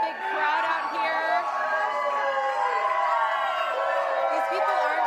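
Large celebrating crowd gathered outside after the Astros' World Series victory, a continuous wash of chatter, whoops and cheers, loud and unbroken from start to finish.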